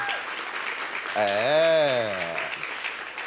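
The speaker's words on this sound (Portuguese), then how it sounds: "Vamos aplaudir, gente. Eu falo o nome, vocês aplaudem." Steady crowd applause fills the clip, with a loud sustained voice cheering or calling out over the clapping midway through.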